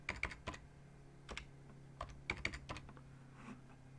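A password being typed on a computer keyboard during a Gigabyte Aorus B450M Hackintosh setup, heard as quiet, irregular key clicks in short bursts with pauses, close and alone.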